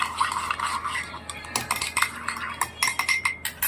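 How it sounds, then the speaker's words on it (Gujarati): A spoon stirs curd and water together in a small metal bowl, giving repeated close scraping and clinking taps that quicken toward the end, with no talking. "જે વાટકીમાં દહીં લીધું હતું એ જ વાટકીમાં આપણે 1 વાટકી પાણી લઈશું અને હવે એને મિક્સ"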